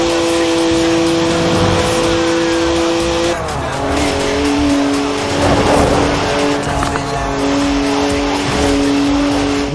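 BMW 1M driven in Forza Horizon 4, a loud, steady engine drone with shifting tones and bursts of tire squeal, heard continuously and up close.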